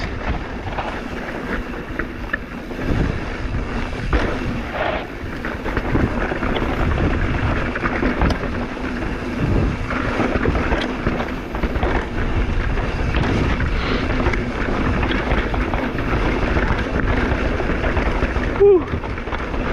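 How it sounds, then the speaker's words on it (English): Wind buffets a GoPro Hero 8 action camera during sample footage, a continuous rushing roar across the whole stretch, loud and close at the microphone. "A little bit of wind in the face."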